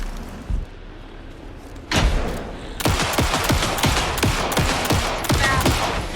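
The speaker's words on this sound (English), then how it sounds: "Anderson, pin him down with a gunfire for me to get the light on him." Bursts of rapid gunfire in the video game Alan Wake 2 crackle in quick succession after a few sharp impacts, loud and close, with no talking.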